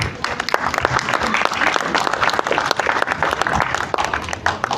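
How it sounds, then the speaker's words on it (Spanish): An audience at an Editorial Planeta book event applauds warmly, a thick crowd of clapping with sharp individual claps popping out over the steady roar, sustained without a break. "Brindemos un fuerte aplauso"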